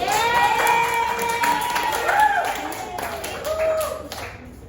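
Classroom applause, a short burst of clapping from students that fades over a few seconds, mixed with voices and sung or called-out sounds.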